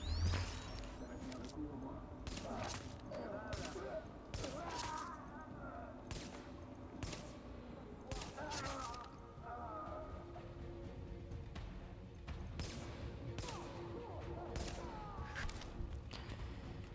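Sporadic gunfire from Tom Clancy's The Division: several sharp shots and short bursts scattered across the stretch over a steady game backdrop, fairly close and moderately loud.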